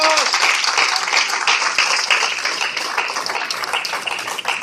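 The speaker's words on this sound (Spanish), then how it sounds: "Denle un aplauso al Señor." Church congregation applauding together during a sermon, dense continuous clapping close and loud with voices calling out underneath, fading slightly toward the end.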